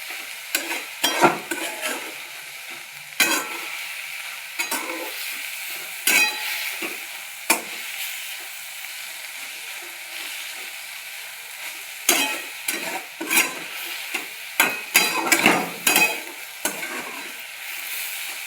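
Leafy greens being stir-fried in a wok, with a steady sizzle broken by repeated loud scraping and tossing bursts that come in clusters throughout, up close and with no talking.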